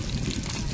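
Fish fries in oil in a wok, producing a brief, close burst of crackling sizzle.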